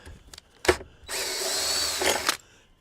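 A power driver runs a sustained, steady whir for over a second, screwing into a workpiece, preceded by a few short knocks and a brief burst, close and loud with no talk.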